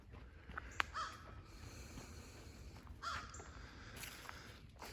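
Crows in a Missouri park give several faint, distant caws, scattered across the stretch amid open outdoor ambience, with a sharp click near the start and no voices.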